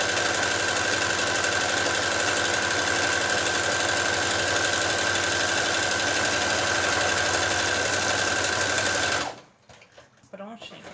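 A sewing machine stitches fabric for a panettone cover, finishing with a backstitch, a loud fast steady mechanical whirring that runs on and then cuts out, followed by a few soft handling sounds.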